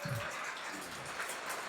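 Steady rain falls without pause in a rural Thai setting, a dense, even hiss of drops pattering on surfaces, continuous and moderately close, with no voices.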